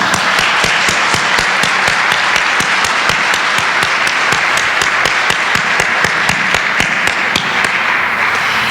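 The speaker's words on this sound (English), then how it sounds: "So I'd like to give them a round of applause." Audience at a University of Michigan law school gubernatorial debate gives the student organizers a sustained round of dense, loud applause from many hands, thinning slightly just before the end.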